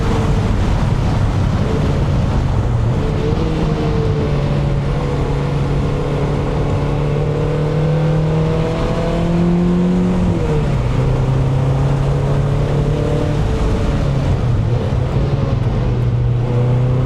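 A 2.5-liter engine-swapped NC Mazda Miata races around Grattan Raceway, its engine droning loudly and steadily with rising and falling pitch through gear changes, heavy wind buffeting throughout, no talking.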